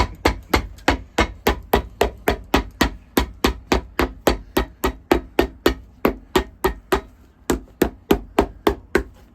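Rapid, steady hammer blows on a Red Wing boot during resoling, about three per second, loud and close with a sharp woody knock, no voices.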